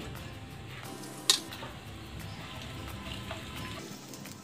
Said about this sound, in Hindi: जीरा क्रैकल होना स्टार्ट हो गया है